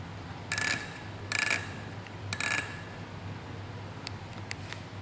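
A spinning motorcycle wheel on a 2015–2017 Yamaha YZF-R1 during a clutch adjustment, heard as a few short, close mechanical ratcheting whirs in bursts followed by fainter ticks over a steady low hum, with no talk over it.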